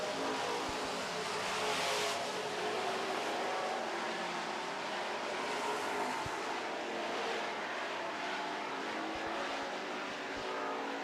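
Super trucks racing on the final lap of a feature race, a continuous engine roar heard from a distance with a broad swell around two seconds, no talking.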